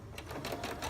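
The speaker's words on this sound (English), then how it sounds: "So you're just going to sew straight down" A sewing machine runs a straight seam on fabric samples at 5/8 inch, giving a quiet, steady, rapid needle chatter with a soft rhythmic pulse throughout the short stretch.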